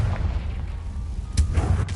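Confringo explosive spell cast in the Hogwarts Legacy video game, with low booming blasts rumbling under a steady game soundscape and a sharper burst near the end.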